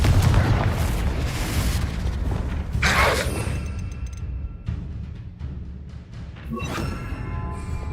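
Blasting Confringo explosion spells in Hogwarts Legacy, heavy booming bursts with crackling debris and mechanical rumble, loud and close, with no speech.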